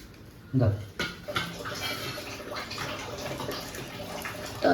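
Water is poured into a cooking pot while a country chicken curry is being made, giving a continuous splashing, trickling stream with a sharper splash at the start and faint background sounds.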